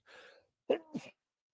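A single person sneezes close by: a brief breathy inhale, a short pause, then a sharp two-part sneeze burst, with silence after.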